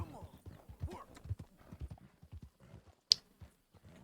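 Horse hooves clip-clop in a steady trot in Red Dead Redemption 2 gameplay under ongoing talk, with a brief sharp click near the end.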